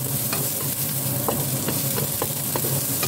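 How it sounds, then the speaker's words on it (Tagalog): Shallots stir-frying in a pan for a green bean dish with dried garlic seafood, a steady loud sizzle throughout with a few light scrapes of stirring, no talking. "So, stir fry lang natin sandali ang ating shallots."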